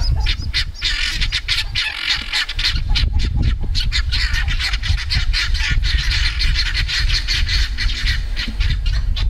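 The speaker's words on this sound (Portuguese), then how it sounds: "essa tal de galinha da Angola" Helmeted guinea fowl on a rural farm call loudly and continuously, a dense chorus of harsh, rapid squawks and cackles from several birds close by.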